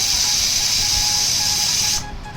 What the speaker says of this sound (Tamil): கொஞ்சமாக தண்ணி விட்டு குக்கர் விசில் போட்டுருங்க.